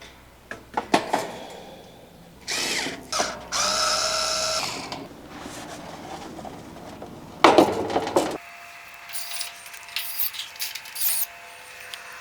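An AC condenser shroud being fastened back on, with bursts of a power drill or driver running screws in, interspersed with clicks, clatter and handling of metal parts, close and moderately loud, ending in a quieter stretch with a steady hum.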